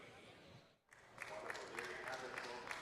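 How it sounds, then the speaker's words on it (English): A harness-racing crowd at the Camluck Classic gives the winning driver faint, distant scattered applause that swells after a brief lull, with an announcer's voice talking over it. "Yes, and a nice round of applause."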